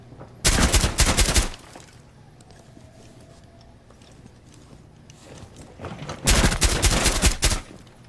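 Two loud bursts of rapid gunfire in Rainbow Six Siege, each lasting about a second, separated by several seconds of quieter in-game ambience with no talking.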